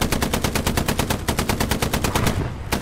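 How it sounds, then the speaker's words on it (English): Rapid automatic gunfire in the World War II shooter game Hell Let Loose around tanks, a loud, fast, evenly spaced burst of shots that stops abruptly near the end. "That was a tank round."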